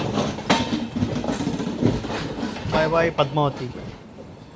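Aboard the 17243 Guntur to Rayagada Express near Dwarapudi, a rumbling carriage carries sharp wheel clatter and knocks, with people talking nearby over the running train.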